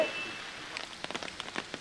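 Heavy rain falls at Sringeri in Chikkamagaluru, with the Tunga river in flood: a faint, steady wash of rain with scattered sharp drop patters becoming more frequent toward the end.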